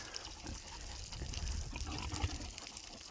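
Water runs in a steady rushing stream from a hose, splashing and gurgling close by, with no one speaking.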